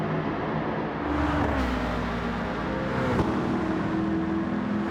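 Ford Focus with a V8 engine swap driven in Gran Turismo 7 on the Tokyo Expressway, a steady loud engine drone with shifting pitch as it revs and changes gear, heard alone without talk.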